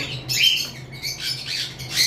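Two pet birds, a creamface fallow and a lutino, squawk in sharp, shrill bursts, several calls close together over a brief stretch, loud and near.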